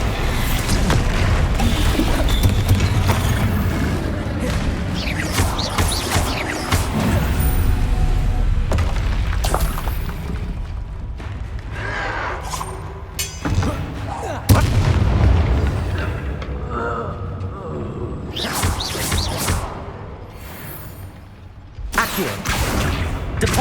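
Bombarda explosion spells cast in Hogwarts Legacy on PS5, booming blasts and crashing impacts in a busy combat mix, loud and repeated with short gaps, voices shouting in between.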